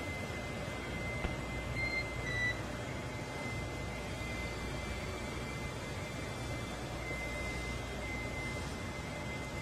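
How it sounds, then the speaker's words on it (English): Steady radio static carries a few faint, brief beeps over the crew radio link of a NASA SpaceX Dragon spacecraft during launch communications. No voices are heard. "you'll be hearing those very characteristic beeps"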